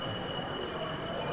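A model railway locomotive runs on track at a model railway exhibition in a hall, a steady low rumbling hum with a thin constant high whine, fairly quiet and unbroken, with no talking.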